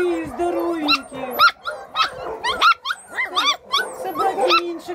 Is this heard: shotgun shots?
no